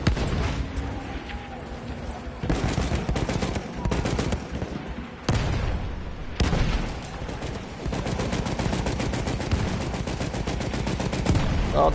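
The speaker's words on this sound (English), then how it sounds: "loud guns." Battlefield 1 match with loud rapid machine-gun bursts and rifle fire crackling almost nonstop, close and punchy, with brief gaps between volleys and a voice talking over parts.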